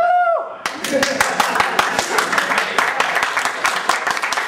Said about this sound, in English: Now, round of applause for Jason Page for making that happen.